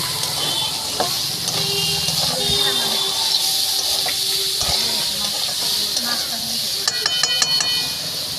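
Potato, brinjal and flat beans frying in a pan give off a steady hiss and sizzle, close and continuous, with people talking over it and a few clinking and tapping sounds toward the end.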